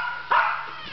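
A single short, sharp bark or yip from a dog indoors at a home, close and fairly loud against a quiet background.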